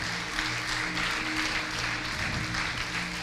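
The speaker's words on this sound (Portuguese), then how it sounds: "Você pode aplaudir ao Senhor? Te aplaudimos, Senhor Jesus." A church congregation applauds in a continuous, even wash of clapping that holds steady for a few seconds at a full, close level.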